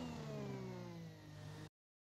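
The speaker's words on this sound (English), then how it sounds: "Listen to the engine." A Formula 1 car engine in the F1 2021 racing game revs hard as it accelerates out of a corner, its high whine climbing steadily in pitch, loud and alone before cutting off abruptly.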